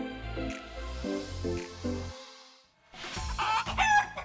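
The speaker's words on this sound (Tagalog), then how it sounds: "Ang manok minsan alaga," Chickens cluck in a quick rhythmic series of close, fairly loud calls, followed after a short gap by a rooster's crow, with no talking.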